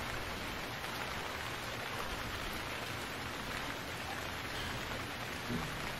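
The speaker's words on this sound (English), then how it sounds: "The rain is terrible in this game." Steady rain in the survival game Stranded Deep, a constant dense hiss of drops at an even, fairly soft level that never lets up, with no voices.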